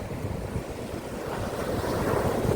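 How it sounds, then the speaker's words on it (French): Rough Mediterranean sea waves break on a wide beach in Andalusia, a continuous rushing surf that swells slightly louder, mixed with wind buffeting the microphone and no voices. "La mer est bien agitée"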